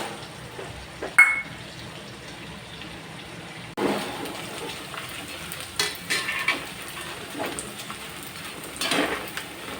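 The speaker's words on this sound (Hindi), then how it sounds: "अब यहाँ पर मैंने जो ये खाने वाला गोंद लिया था इसको भी मैं इस घी में तल लेना है।" Edible gum (gond) frying in hot ghee for Rajasthani churma laddu, a quiet steady sizzle with a small splash or clink as pieces drop in, then a fuller bubbling crackle that swells and fades at moderate level.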